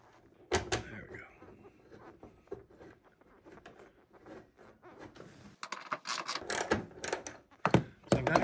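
A ratchet tightens a bolt on an LED ditch light bracket on a truck. Soft handling clicks and scrapes give way to a dense, close burst of rapid ratcheting clicks near the end, with some talk.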